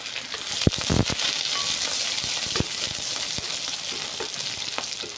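Hot oil sizzles and fries steadily in a wok, a dense continuous crackle with a few sharp pops and clatters, close up and alone without any talking.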